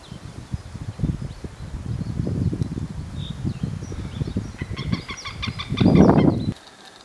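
A pair of white-tailed eagles call near their nest in the woods in early May: a rapid run of yelping notes rises near the end over steady rustling and outdoor background noise.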